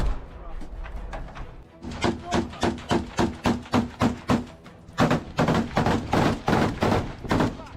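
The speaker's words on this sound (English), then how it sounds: "You now see them once again firing over the Russians' heads, trying to keep them down." Gunfire in Ukraine war combat footage from Russia rings out as a rapid, regular string of loud, close shots, breaks for a moment, then resumes in another steady burst of sharp reports.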